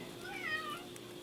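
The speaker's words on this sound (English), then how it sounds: "Hi, kitty." A cat gives a single short, soft meow at close range against faint room noise, with no talking over it.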